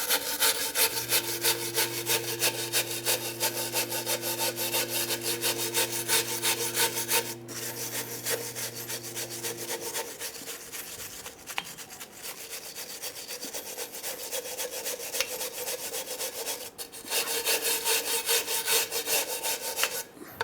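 Steady, rasping scraping of a tool working over the metal rear brake backing plate of a 1994-2001 Dodge Ram 1500, continuous and close, with brief pauses and a low hum in the background.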